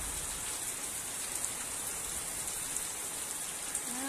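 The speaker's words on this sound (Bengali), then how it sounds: "বৃষ্টি হচ্ছে, মুষলধারে বৃষ্টি হচ্ছে।" A heavy downpour of rain hisses evenly and continuously, fairly soft and distant, with scattered drops tapping on surfaces.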